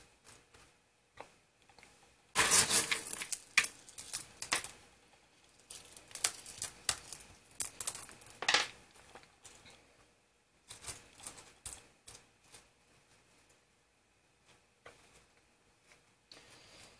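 Scissors snip dead growth off an aquatic plant, with scattered crisp clicks and cuts of varying loudness, a busier burst of snipping near the start, then sparser, fainter snips.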